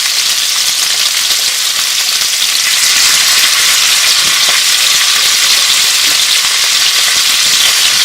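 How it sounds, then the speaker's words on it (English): Chicken pieces browning in a hot pan for coq au vin, giving a steady, loud, continuous sizzle and crackle of frying fat that holds evenly throughout with no talking. "let those cook and kind of brown for a couple of minutes"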